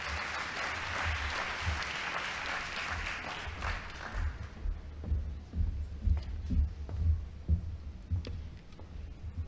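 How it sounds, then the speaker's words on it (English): A ceremony audience gives a round of applause at a National Science Week launch, a broad wash of clapping that thins out midway and leaves a low, thumping hum beneath scattered claps. "A round of applause for her,"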